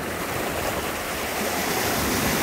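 Waves and surf at a Costa Rica beach wash in a steady, dense roar that swells slightly louder toward the end, with no voices.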